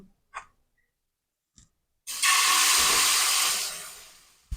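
Pitha batter frying in an oiled pan, a loud steady sizzle that starts abruptly after a few faint clicks, holds strongly for about a second and a half, then gradually fades.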